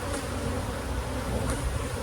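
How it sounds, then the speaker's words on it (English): Honey bees in a nucleus hive crowded with emerged brood, a dense continuous buzz at close range with no voices. "Lots of bees."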